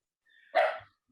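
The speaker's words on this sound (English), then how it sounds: "Is that your dog, Kayla?" A single short dog bark sounds in the background of a quiet room, sharp and fairly faint, lasting under half a second.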